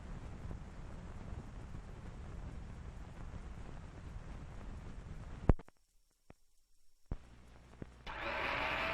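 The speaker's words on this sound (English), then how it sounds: "It's the newest, most exciting sound in town. It's a General Electric blender that's gone around." A General Electric blender whirs with a steady, loud broadband drone for about five seconds, then cuts out abruptly, leaving near silence broken by a few clicks before noise returns.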